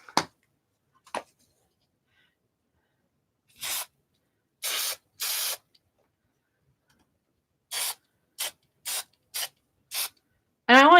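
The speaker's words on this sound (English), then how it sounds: "Let's give these a spray." Short hissing bursts from a spray paint can coating small craft pieces for a little box, about eight separate sprays of varying length in a quiet room, with a few faint taps between them.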